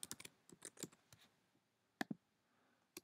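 Quiet keystrokes on a computer keyboard, bursts of quick clicks in short runs with pauses between, close and soft, ending with a few isolated taps.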